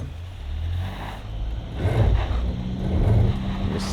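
A Kia Tasman engine revs and strains under throttle while climbing an off-road slope and losing traction, a steady low drone rising in two louder surges toward the end, with no talk.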